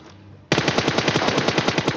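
After a quiet half second, an Mk rifle in PUBG Mobile opens up in a loud, rapid automatic burst of about a dozen evenly spaced shots that carry on to the end.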